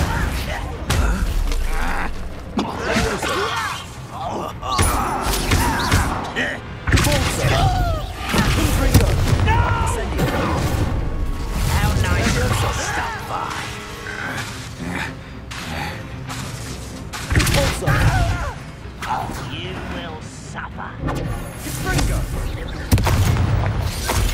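Levioso and Incendio spells cast in Hogwarts Legacy on PS5, set amid continuous loud combat: repeated booms, crackling bursts and clanking impacts layered densely over one another.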